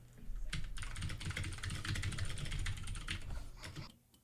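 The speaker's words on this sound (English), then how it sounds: "Well, I have a mechanical keyboard." Rapid typing on a mechanical keyboard, dense clicky keystrokes close up and fairly loud, with a low steady hum beneath, stopping just before the end.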